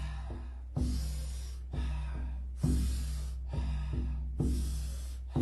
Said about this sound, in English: We're going to take about 40 powerful breaths into the body